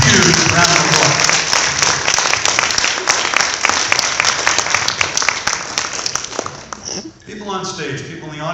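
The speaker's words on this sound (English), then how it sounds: "Give them a huge round of applause" A loud, sustained round of applause fills a hall at a stage hypnosis show at Riverside's 2015 after-prom, dense clapping from the audience holding steady before dropping away near the end as other sound takes over.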